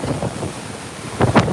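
Hurricane surf crashes off the Sarasota, Florida coast in strong wind, a low rumbling roar with gusty buffeting on the microphone and a sharper wave burst near the end.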